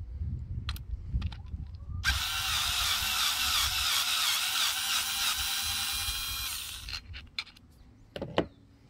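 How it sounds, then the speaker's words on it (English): A power drill with a 6mm bit backs out a screw on a Sur-Ron electric bike, a loud whirring run of about five seconds, with faint handling clicks and knocks before and after. "Now to remove the screw, you use a 6mm bit."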